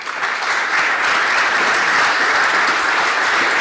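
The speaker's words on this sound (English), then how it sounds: "Please give a round of applause to our panelists" A conference audience gives dense, even applause for a panel of speakers. The clapping stays loud and steady throughout, with no talking over it.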